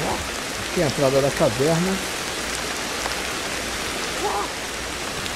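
Steady rain falls in the video game Ancestors: The Humankind Odyssey, a constant close patter filling the whole stretch while someone speaks briefly over it and a short animal-like call rises in the middle.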